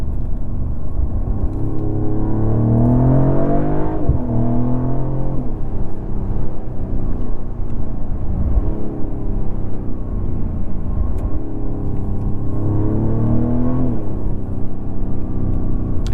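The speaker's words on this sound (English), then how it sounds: "I'm going to show you guys the progressive sport sound, where it will enhance the sound inside of the cabin." A 2024 Mercedes CLE450 4MATIC engine with in-cabin enhanced sport sound hums and revs in a deep tone, rising and falling through several accelerations over a steady rumble.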